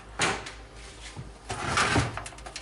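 The thin side door of a cheap $17 PC case is handled, giving several light plastic-and-metal clicks and rattles spread irregularly across a few seconds, with no talk.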